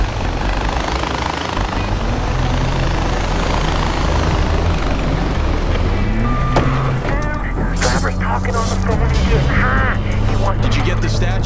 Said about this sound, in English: I found the chopper, Hurk.